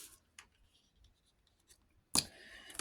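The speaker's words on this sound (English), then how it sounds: "I think I'm going to cut that bit off of it." Scissors cutting off a piece of material: faint scattered snips in a quiet room, then one louder, closer crunching cut near the end.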